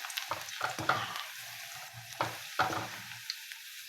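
Food frying in a pan with soft sizzling and several bursts of stirring scrapes, fairly quiet and close, with no talking.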